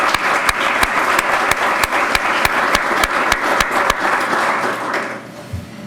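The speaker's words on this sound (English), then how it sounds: "Let's give them a little round of applause" An audience at a leadership program ceremony applauds with a steady burst of clapping, a few sharp claps standing out, fading out after about five seconds.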